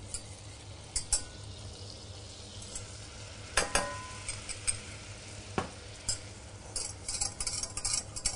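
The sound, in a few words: butter and flour roux stirred in a pan for béchamel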